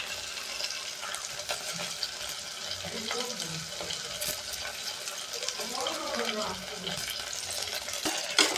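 Ginger garlic paste sizzles and crackles steadily in a pan for mushroom biryani, with stirring and scraping over the frying hiss and a voice talking throughout.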